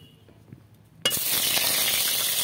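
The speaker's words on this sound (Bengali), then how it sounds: "পনিরগুলো আমি ভেজে নিচ্ছি।" Paneer cubes drop into hot oil in a wok and burst into a sudden loud sizzle after a quiet start with a few soft clinks, then keep frying in a steady, close crackle.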